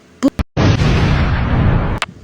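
A video game explosion bursts out loud and close, sustaining a broad roar for about a second and a half before cutting off, with a couple of short pops just before it.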